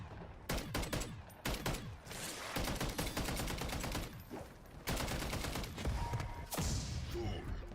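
Rapid automatic gunfire from a deployed sentry gun in Modern Warfare Zombies, loud bursts of repeated shots in quick rhythm with brief pauses, close and dense throughout.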